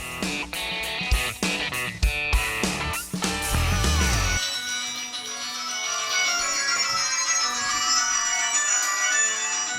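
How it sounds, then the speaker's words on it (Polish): A MyPhone Hammer phone ringtone plays, an electronic melody with bright repeating notes, followed by a sustained shimmering tone, moderately loud with no speech. "Dzwoni telefon."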